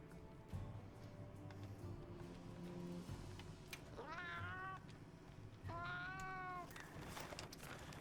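Cats in the Monster Hunter Wilds video game give two clear, rising meows a couple of seconds apart, faint over a low, steady in-game ambience.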